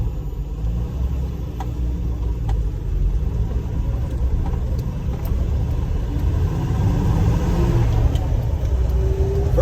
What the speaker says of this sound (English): I'm going to release the parking brake, pull out, and just look at a kind of a normal acceleration